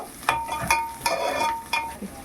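Onions frying with salt in a pan, stirred with a few distinct scraping strokes over a soft, close sizzle.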